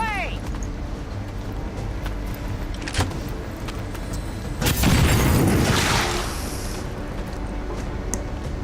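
A bomb goes off in the XCOM 2 tactical game, a broad rumbling blast swelling midway and fading over a couple of seconds, preceded by faint clicks and metallic ticks; voices speak around it.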